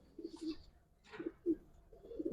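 A Giribaz silver-coloured pigeon gives a few soft, low coos close by, short bursts separated by quiet pauses, with no talking.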